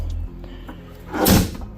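A repaired door on a Polaris RZR 900 UTV shuts with a single solid thump and rattle near the end, after a stretch of quiet low rumble.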